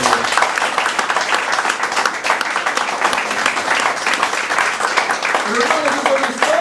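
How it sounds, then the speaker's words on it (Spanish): A church congregation breaks into applause as an offering, a dense, continuous clapping that fills the room at moderate-to-loud level, with voices mixed in near the end. "¿Cuándo le damos una ofrenda de aplauso?"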